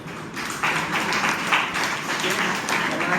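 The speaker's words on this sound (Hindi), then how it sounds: "उनके लिए एक बार जोरदार ताली हो जाती है।" Sustained crowd applause at a university program, a steady wash of many hands clapping, moderately loud, swelling slightly after the first moment.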